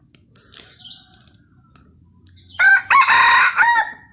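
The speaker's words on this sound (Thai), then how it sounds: "นี่นะครับเสียงขันก็ประมาณนี้นะครับ" A rooster crows loudly and close by, one long drawn-out call that breaks into a few strained phrases, after quiet clucking and faint background sounds.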